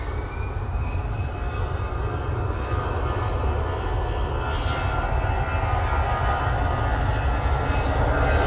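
An airliner in Borussia Dortmund livery departs Manchester Airport on a windy day, a steady, broad engine roar holding throughout without speech.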